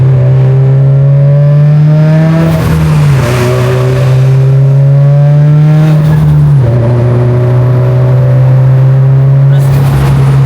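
A Subaru VAB STI fitted with a rotated big T51 turbo revs loudly up close, its engine note climbing and dropping back in several repeated pulls, with voices faintly underneath.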